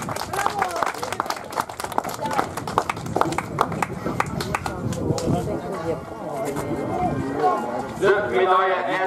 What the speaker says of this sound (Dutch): Gaberend applaus, dames en heren, voor Nick van Laken.